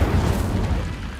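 The Incendio fire spell is cast in the video game Hogwarts Legacy, a short, heavy whooshing boom that starts loud and fades over about a second, with nothing else heard.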